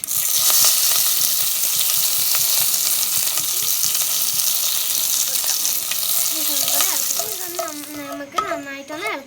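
Dried red chillies sizzle loudly in hot oil for a Kerala buttermilk curry made without coconut, a steady close crackle throughout, with a brief voice toward the end.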